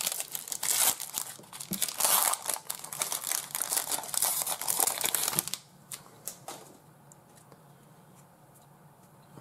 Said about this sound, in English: Eight cards, 1995 Marvel Metal. Let's try to open this guy up carefully.